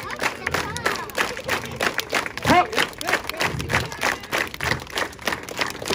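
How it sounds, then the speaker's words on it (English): A street show audience in Queenstown claps along to a fire and knife juggler's count, with rhythmic group clapping and crowd noise under a performer's voice. "Round up, clap, clap, clap, clap. Keep it going."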